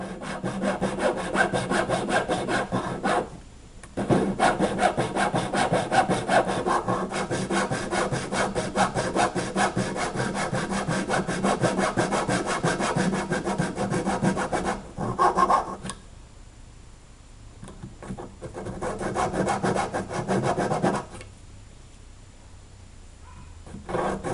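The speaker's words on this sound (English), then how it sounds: "I'm going to widen that groove with the 3 hacksaw blades that are taped together" Three hacksaw blades taped together widen a groove for an arrow nock insert. The rasping back-and-forth sawing strokes are close and loud, with a couple of brief pauses and lighter strokes near the end.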